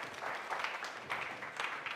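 An audience at a conference gives a round of applause, a soft, distant patter of many clapping hands rising and falling in small swells.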